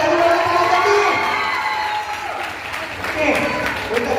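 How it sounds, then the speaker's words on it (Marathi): A crowd of women at a game-show event claps and cheers together, loud and close, with whoops and shouts rising above the applause before it slowly thins out. "जोरदार टाळी झाली पाहिजे."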